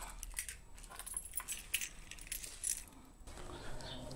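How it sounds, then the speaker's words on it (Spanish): Car and house keys jangle close by in a quiet room, a handful of bright metallic clinks and rattles scattered over a few seconds, soft overall. "Vamos a tomar las llaves del coche y de la casa"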